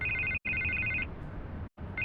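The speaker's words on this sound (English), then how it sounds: "I can't get the phone to stop ringing." A telephone rings in the Telltale Batman video game, sounding as repeated electronic bell trills in two bursts with short gaps, loud and close, then starting again after a pause.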